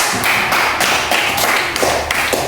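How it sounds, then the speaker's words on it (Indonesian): A class of fourth-grade primary school children applauds during a maths lesson: steady, dense hand clapping from many pupils for a couple of seconds, fairly loud and close, with no talk over it. "Kasih tepuk tangan."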